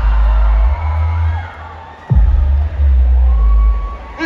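A large crowd at a Billie Eilish show at Lowlands Festival roars and cheers loudly, the din dipping briefly mid-way before surging back with shouts and whoops.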